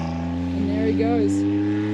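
A tractor engine cutting a hay paddock holds a loud, steady harmonic drone, rising briefly in pitch as it revs, with voices talking over it.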